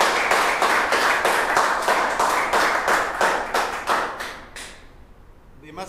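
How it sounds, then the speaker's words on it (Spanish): A crowd at a basketball education gathering claps together in a steady burst of rhythmic handclaps that thins out and stops after about five seconds, close and fairly loud. "Vamos a aplaudir."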